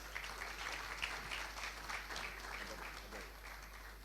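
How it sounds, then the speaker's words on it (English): Sustained audience applause at a formal ceremony honoring the late Dr. John Kumar, a steady wash of clapping heard from a distance with some faint voices mixed in. "Please, a round of applause"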